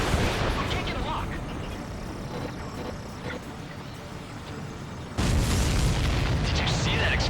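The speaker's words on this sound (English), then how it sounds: "Did you see that explosion?" Enemy aircraft explode in a flight combat video game, a loud rumbling burst over continuous engine roar and game noise, with a sharp louder surge near the end; a voice talks over part of it.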